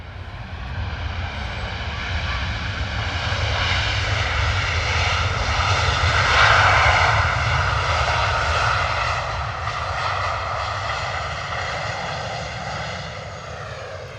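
A Ryanair Boeing 737 braking hard after landing on the runway at London Stansted Airport, its engines roaring steadily and loudly for the whole stretch, swelling slightly midway before easing off.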